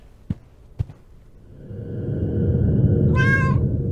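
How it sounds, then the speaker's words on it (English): Cat meow in the horror video game Nightmare of Decay, a single clear meow near the end following two sharp knocks and a swelling low ambient drone. "Is that the cat? Are you the cat? You're the cat."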